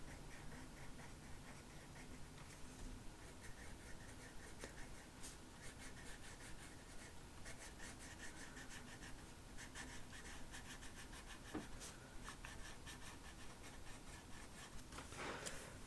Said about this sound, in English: I'm gonna use this black colored pencil